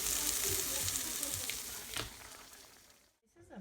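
Onions fry in butter in a pan for a chicken quesadilla, a loud close sizzle with a few stirring clatters that fades before a brief silence near the end.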